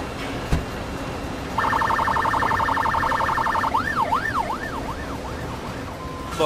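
Police car siren in the game Emergency 4 with a São Paulo mod: a rapid electronic yelp switches to a rising-and-falling wail, loud and close, with no talk over it.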